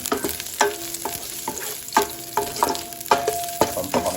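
Garlic, onion and green chili sautéing in a pan for a bottle gourd and shrimp dish, with a steady oil sizzle beneath repeated scraping stirs of a utensil against the pan, close up and with no voices.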